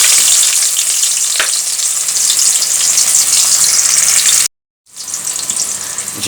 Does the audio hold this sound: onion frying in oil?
yes